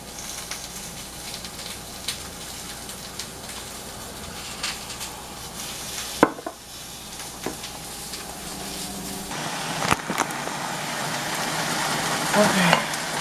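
Shrimp browning in a pan with other ingredients, a steady low sizzle running throughout, with a few sharp clinks and stirring scrapes around the middle and the frying growing slightly louder toward the end.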